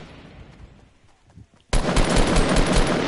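Rapid automatic gunfire in a video game shooter, a few quiet scattered shots, then a sudden loud burst of sustained fire that runs to the end.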